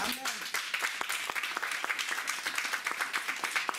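A church congregation applauds steadily, a dense crowd of many hands clapping continuously at moderate loudness, with voices faintly mixed in.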